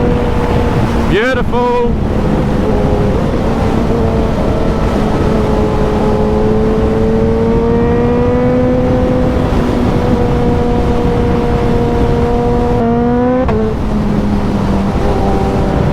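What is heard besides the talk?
high-performance motorcycle engine revving with quick shifter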